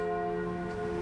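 Church bells ringing in Brussels, a sustained resonant chime with rich ringing overtones, loud and near, filling the moment without talk.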